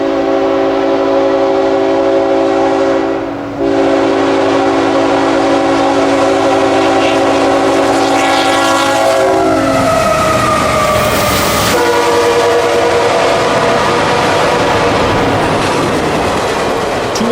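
NS 209, a daily intermodal freight train, rolls past with a loud sustained horn blast, followed by the heavy rumble and clatter of railcars continuing close by.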